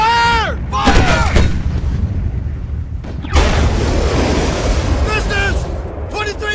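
Three cannons fire in rapid succession in a Hollywood movie battle scene. Heavy, booming blasts with long rumbling tails mix with loud shouted commands.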